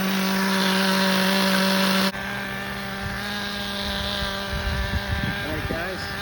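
An HPI nitro RC monster truck engine idles with a steady buzzing drone, loud for the first two seconds then dropping lower, while people talk over it.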